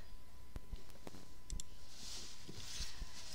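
A computer mouse gives a few sharp, quiet clicks scattered across a faint room background, brief isolated taps with no talk.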